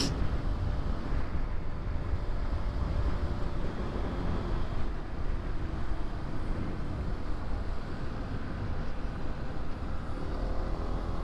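Wind roars steadily across the microphone while riding a Honda PCX 125 scooter on the İzmir–Çeşme motorway, a loud continuous broadband rush with engine and road noise underneath and no talk.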